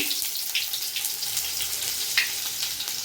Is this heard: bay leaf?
yes